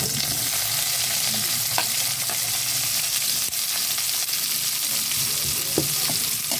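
Tomatoes sautéing in a pan after golden-browned aromatics for a mussel dish, a loud, continuous sizzle and hiss with occasional faint clicks of stirring, close and steady throughout, with no talk.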